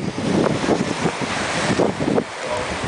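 Ocean waves rolling in beside a pier, a steady broadband wash with repeated swells surging and receding, heavy wind buffeting the microphone throughout.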